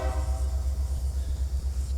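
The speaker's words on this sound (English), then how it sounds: "well, we got a train." A train passes close by, its steady low rumble and droning horn-like tone running continuously, loud and unbroken, with no talk over it.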